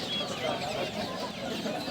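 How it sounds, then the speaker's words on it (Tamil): Sonali country chickens at a market, five-month-old birds, giving soft intermittent clucks and murmurs over a busy background of other fowl and noise. "இது வந்து நாட்டுக்கோழிங்க சோனாலி கோழி 2 இருக்குதுங்க."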